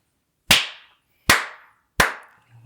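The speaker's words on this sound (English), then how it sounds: "All right, we're clapping then." Three sharp, loud hand claps for audio sync on a podcast, evenly spaced and close, each ringing briefly in a quiet room.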